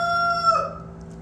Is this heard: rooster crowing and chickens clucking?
yes